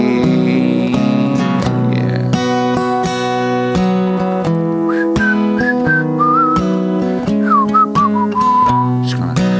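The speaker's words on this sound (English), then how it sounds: "Ironic whistling for the melody." Clear, tuneful whistling carries the melody of a song over a steady instrumental backing, the whistled line rising and gliding above the accompaniment.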